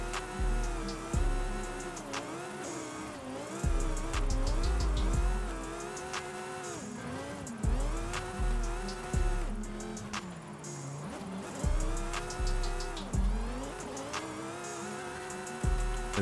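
A Lamborghini Huracan STO drifting in Forza Horizon 5 roars loudly, its engine revving up and dropping back again and again in a steady rhythm, with no talking.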